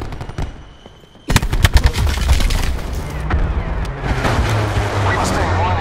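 Aircraft gun strafing run in a shooter video game, a sudden loud onset of rapid heavy cannon fire with booming impacts and rumbling explosions that continue for several seconds.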